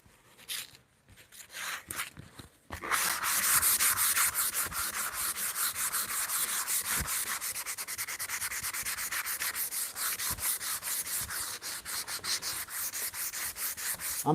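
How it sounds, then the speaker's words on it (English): Steady rhythmic sanding of a wooden board meant as a bunk bed runner, close and continuous strokes after a few brief handling knocks at the start, with no talking. "I'm not just sanding a random board for a live."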